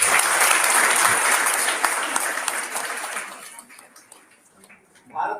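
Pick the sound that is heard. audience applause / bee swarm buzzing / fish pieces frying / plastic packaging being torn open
audience applause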